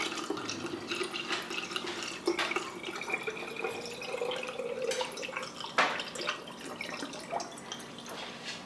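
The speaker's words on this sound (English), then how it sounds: "2 cups of water." Water poured into a quart jar, a soft continuous trickle and splash that rises in pitch as the jar fills, with a few faint clinks near the end and no talking.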